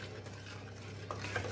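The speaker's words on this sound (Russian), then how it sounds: "Мешаем все время" Custard cream stirred continuously in a thick-bottomed pot while it thickens, a steady soft scraping and swishing with faint clinks near the end, no talk.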